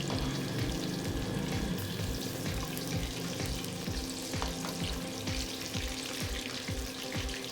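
Fish frying in ghee until golden makes a steady, close sizzle with a dense, even crackle and some soft clatter, running throughout with no talking.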